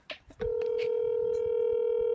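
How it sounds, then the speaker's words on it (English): An outgoing phone call begins with a few quick keypad beeps, followed by a single steady electronic tone from the handset that holds unbroken to the end. "are you calling Ben right now? Calling Ben so he can explain the new NIL thing to us"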